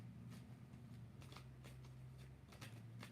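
Tarot cards being shuffled by hand, repeated quick riffling bursts in an uneven rhythm, close and fairly quiet over a steady low hum, with no talking.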